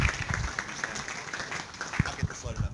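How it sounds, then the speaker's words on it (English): Audience applause in an engineering lecture hall, welcoming a guest speaker; a moderate patter of clapping with some background voices and low thumps, fairly close and steady for a few seconds. "let's give her a round of applause"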